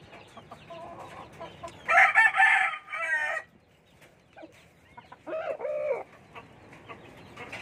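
A young gamecock stag crows twice, a loud strained call followed by a shorter, weaker one, with soft clucking and ambient noise between.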